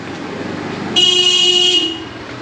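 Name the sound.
car horns honking in narrow street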